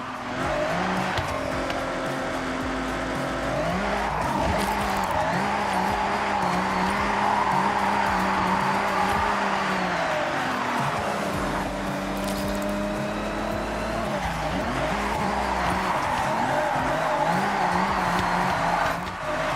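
A car in a racing video game slides through a long handbrake drift, engine droning steadily with shifting revs while tires squeal and skid continuously.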